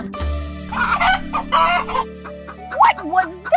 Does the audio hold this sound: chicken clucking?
yes